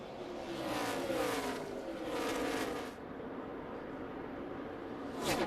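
NASCAR Nextel Cup race cars roar past on an oval track at the 2006 Sony HD 500, engine noise swelling and fading in a few passing waves, steady and moderately distant.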